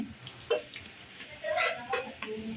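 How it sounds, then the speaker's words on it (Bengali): Chopped ginger and garlic lightly frying in a pan, a soft low sizzle broken by a few stirring scrapes and clinks, quiet and close. "আদা রসুনটাকে আমি একটু হালকা ভেজে নিচ্ছি"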